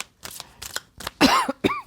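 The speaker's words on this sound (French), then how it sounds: "Je vous l'avais dit, il y a encore des petites toux qui passent comme ça." A person coughs several times in quick, harsh bursts close to the microphone, with a throat-clearing rasp near the end and short silences between the bursts.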